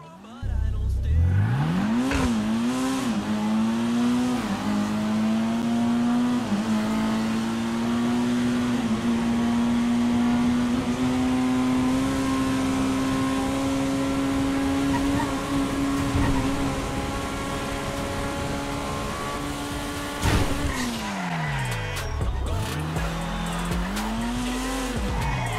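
A Vapid Flash GT car in a video game accelerates hard along a runway, the engine note climbing steadily through long gears, then a brief tire squeal and another rising run, loud and close throughout.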